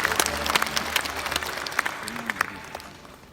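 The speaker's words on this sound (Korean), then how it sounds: "서로 다 함께 박수로 격려해 주시면 감사하겠습니다." A crowd claps in scattered, lively applause that gradually thins and fades toward the end.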